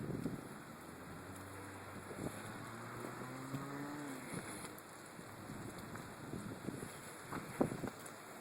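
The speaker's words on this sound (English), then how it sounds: "That's some pretty good wind, huh" Strong storm wind buffets the microphone in Seymour, Indiana during heavy rain, a steady loud roar with gusting swells and occasional thumps throughout.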